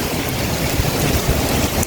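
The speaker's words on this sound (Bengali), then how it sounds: "দেখেন প্রচুর পরিমাণ বাতাস, আমি দাঁড়িয়ে থাকতে পারতেছি না" Strong wind on a rooftop during a rainy, overcast day, a loud continuous roaring buffet with no voices.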